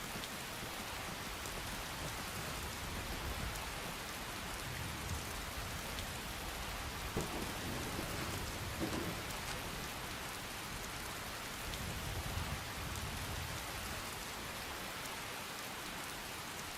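Steady rain pours in Skyrim, a dense, even wash of falling drops and surface patter that holds constant throughout with no voices, moderately soft.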